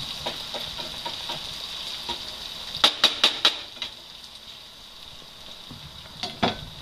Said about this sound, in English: So you want to just keep stirring, try and break up any lumps, just let the potatoes soak up the oil as you're going